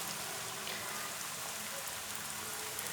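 Potato sticks frying in hot oil, a dense, steady crackle and sizzle that stays fairly even and close throughout, with no voices.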